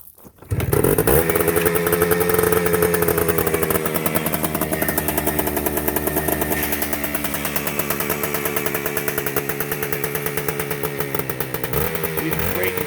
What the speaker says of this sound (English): Little 2-stroke ripper. Oh yeah. 2-stroke, baby.